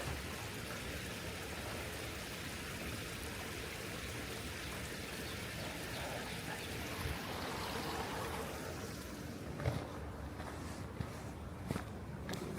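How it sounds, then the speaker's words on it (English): A creek flowing through a wooded stretch of Central Park in New York City, a steady broadband rush of water running throughout, with a few faint knocks and footsteps near the end. "Here's the creek."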